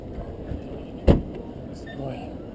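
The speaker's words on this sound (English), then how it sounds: "she's going to open the door" A Ferrari's car door opens at a Ferrari Club of Japan meeting in 2014, giving a single short, close latch click over low crowd murmur.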